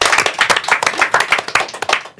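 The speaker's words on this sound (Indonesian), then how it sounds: "Tepuk tangan." Close, loud hand clapping from a small group in a podcast studio, a quick uneven run of sharp claps that fades out at the end.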